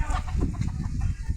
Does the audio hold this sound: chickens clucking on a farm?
yes